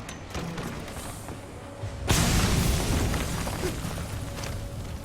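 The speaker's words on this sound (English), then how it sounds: "I gotta blow that up. I got just a grenade to do it with." In Metal Gear Solid V, a grenade goes off partway through: a sudden loud boom that breaks over light game ambience and then leaves a long, dense roar that slowly fades.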